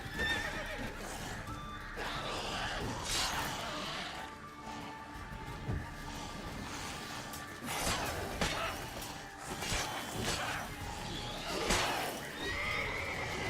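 Roach the horse from The Witcher 3 whinnies and neighs in repeated bursts over a busy game soundscape, with hoof clip-clops and scattered crashes mixed underneath.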